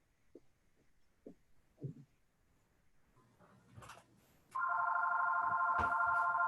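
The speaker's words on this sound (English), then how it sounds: "Someone's phone is ringing." A telephone rings loudly and steadily in a home setting during an online group gathering, a sustained electronic ring that begins abruptly partway through and continues to the end, preceded by faint knocks and rustling.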